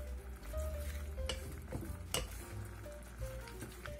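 Beef, tomato and onion stir-fried over high heat in a pan, with a soft, steady sizzle and scattered scraping and stirring clicks close by, with no talking.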